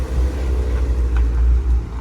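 A Mazda MX-5 drives into a car show field with a loud, close, steady low engine rumble that swells slightly as it passes, with no voices over it.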